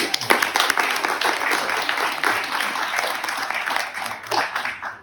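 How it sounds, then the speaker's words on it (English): Audience applauding at the grand opening of the Mississippi EMERGE Center in a facility leased from St. Patrick Episcopal Church, a full, slightly uneven wash of clapping that swells and dips, with no voices over it. "So give her a round of applause."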